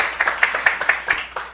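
Congregation clapping enthusiastically during a church service, a burst of claps with sharp peaks rising and falling over about a second and a half, close and moderately loud with no talk over it.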